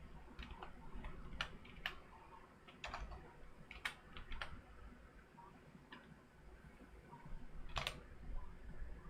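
Someone types at a computer keyboard in irregular bursts of sharp clicks. The keystrokes sound faint, set against a steady low hum of room noise, and no one speaks.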